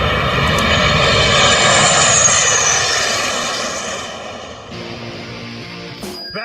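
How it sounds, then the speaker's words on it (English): Loud, roaring jet noise from Air Force Thunderbirds aircraft passing overhead, swelling to a peak and then fading as they move off, with no voices. "That was the sound of the Air Force Thunderbirds."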